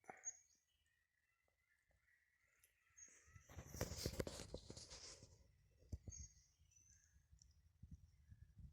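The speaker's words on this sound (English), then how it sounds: "pileated woodpecker back in there, the way it sounds" Loud, echoing pileated woodpecker calls ring out from the woods in spring, followed by crunching and shuffling footsteps nearby.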